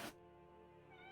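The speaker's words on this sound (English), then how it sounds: "I heard a cat." A cat meows once, close and fairly clear, with a short burst of noise at the start and a tonal meow stretching through the rest of the moment, with no talk over it.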